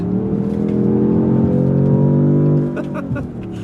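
A 2026 Dodge Charger Scat Pack engine pulls steadily on a highway with rising pitch for a few seconds, then eases off; a continuous close roar with faint sounds near the end.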